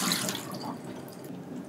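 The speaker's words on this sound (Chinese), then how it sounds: "用一啲清水再沖一次" Clean tap water runs over an eel being rinsed in a sink, a steady close splashing stream with no voices.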